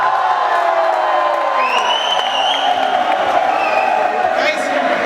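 Student audience at an election debate cheering and whooping in a loud, dense crowd roar that swells and holds for several seconds, with shouts and voices mixed through it.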